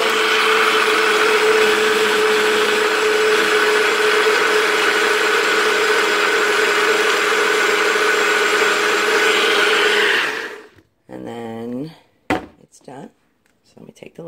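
A Nutribullet blender whirs loudly and steadily for about ten seconds, blending a chocolate banana almond butter Shakeology in its own cup, then cuts off, followed by a short clatter and a person speaking.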